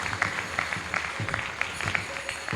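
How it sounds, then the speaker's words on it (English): Audience applause at a graduation ceremony of Bhaktivedanta College of Education and Culture, steady scattered clapping from a moderately sized crowd in a hall, somewhat distant and even. "So, let's give her an applause."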